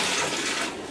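Water and fish from a bag gush into a pond, a brief loud splashing pour that eases off toward the end, with no talking.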